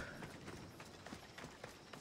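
Horse hooves clip-clop at a quick running pace in the video game Assassin's Creed Odyssey, faint regular thuds over a soft background.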